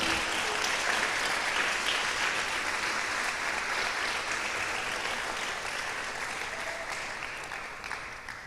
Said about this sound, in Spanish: usted le da un aplauso al Señor